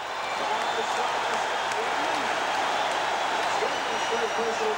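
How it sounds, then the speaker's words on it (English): A basketball arena crowd roars continuously after a Bernard King shot and foul in a 1984 Knicks–Celtics playoff game, a broad steady cheer with a commentator's voice talking over it. "listen to this crowd"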